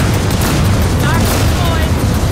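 Airstrike rockets in Gears of War 4 send out a dense, continuous roar of loud explosions with a heavy low rumble throughout, with a voice faintly present underneath.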